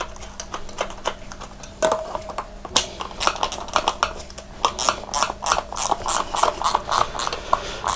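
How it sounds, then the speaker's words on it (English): A motorcycle wheel rim lock is tightened by hand in a garage with a ratchet, giving rapid clicking pawl bursts that grow steadier and louder in the second half, close up. "what we'll do now is just tighten this rim lock up."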